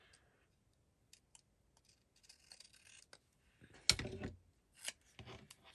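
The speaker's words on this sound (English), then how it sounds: "so I'm going to cut this out as a sticker." Paper-cutting scissors snip out a paper sticker in a quiet room, a few faint scattered snips followed by louder, closer crunching cuts near the end.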